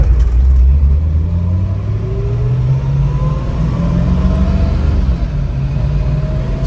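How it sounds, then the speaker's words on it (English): Loud in-car engine drone of a 1967 Shelby GT350 with a four-speed manual, running steadily while driving, with low rumbling harmonics rising and falling through gear changes and no talking. "We're going to do an in-car driving video."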